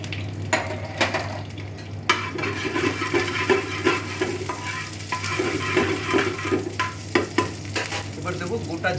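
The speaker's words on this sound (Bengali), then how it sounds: "তেলটা গরম হলে এর মধ্যে আমি দেব তেজপাতা, শুকনো লঙ্কা এবং গোটা গরম মশলা।" Bay leaf, dried chilli and whole garam masala spices fry in hot oil, a steady close sizzle punctuated by crackles and scraping stirs of a utensil in the pan.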